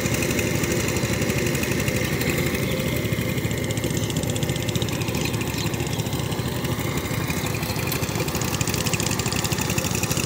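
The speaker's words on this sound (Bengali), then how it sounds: "সাইপিং 18 ব্লেড পাওয়ার টিলার দিয়ে চাষ করা হচ্ছে। ইঞ্জিনের সাউন্ড খুবই সুন্দর, 20 ঘোড়া ইঞ্জিন সাইপিং" A 20 hp power tiller fitted with an 18-blade rotor churns a muddy paddy field, its engine droning loud and steady at close range with no pauses or voices.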